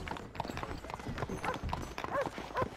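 Horse hooves clip-clop in the video game Red Dead Redemption, a quick, uneven series of hoof strikes at close range, with a faint voice underneath.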